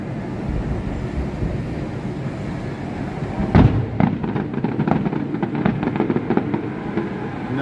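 Fireworks set off nearby on New Year's in Hawaii: a steady rumbling backdrop of distant bursts, then a loud close bang followed by a rapid string of crackling pops and booms.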